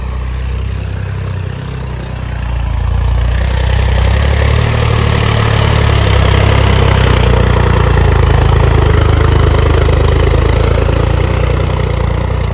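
A John Deere 5310 tractor with an upgraded engine runs in second gear, a loud, steady diesel drone close to the listener that swells slightly after a few seconds and then holds constant with no speech.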